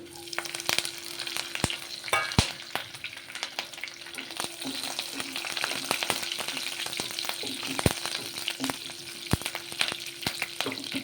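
Curry leaves and green chillies frying in a pan with oil, a continuous close sizzle and crackle with scattered sharp pops and the occasional scrape of stirring, no voice.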